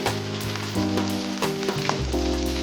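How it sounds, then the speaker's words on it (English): Three cloves of minced garlic sauté in a hot pan with a steady sizzle, joined by a few scraping stirs, while a low background tone holds beneath throughout. "Add 3 cloves of minced garlic to the pan."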